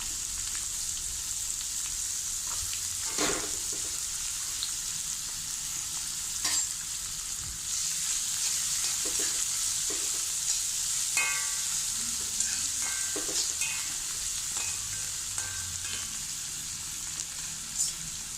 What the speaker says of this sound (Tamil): இந்த 2 பச்சை மிளகாயும் இந்த வெங்காயம் நறுக்கினதையும் போட்டு கிளறி கொடுக்கணும்